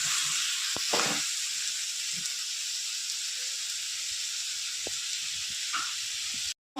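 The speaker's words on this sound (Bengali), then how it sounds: "মশলা দিয়ে ভালো করে কষিয়ে নেব যতক্ষণ কাঁচা গন্ধটা না যাবে।" A paste of garlic, tomato and green chilli is sautéed with spices in a pan for a rohu fish curry, giving a steady, close, continuous sizzle with a few soft stirring knocks and no talk.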